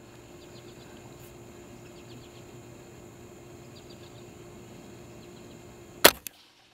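A single loud rifle shot fired through an inexpensive $18 scope cracks sharply near the end, followed by a brief echo, after a long quiet stretch of outdoor ambience with faint bird chirps.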